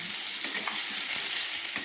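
Potatoes deep-frying in hot oil give a steady, dense hiss and crackle throughout, close up, with faint stirring taps underneath and no voices.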